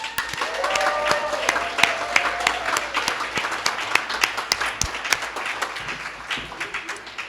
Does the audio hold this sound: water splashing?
no